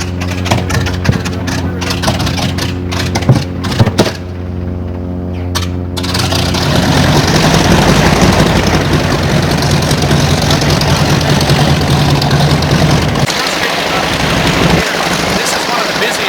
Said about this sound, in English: It takes a little while for those radial engines to get everything working like an old car.